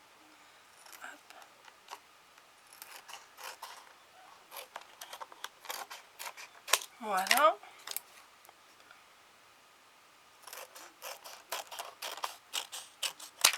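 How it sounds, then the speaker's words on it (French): Scissors snipping paper for a small disc-bound mini album, a series of crisp, close cuts in irregular bursts with pauses, while someone speaks briefly between snips. "Je coupe un peu plus large que mon papier"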